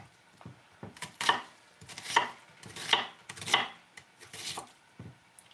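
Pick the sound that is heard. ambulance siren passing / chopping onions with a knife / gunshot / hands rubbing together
chopping onions with a knife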